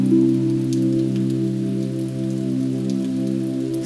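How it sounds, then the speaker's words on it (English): Calm rain on a Tokyo night gives a faint, steady patter beneath a loud, sustained, humming tonal drone that lasts throughout. "Peaceful rain,"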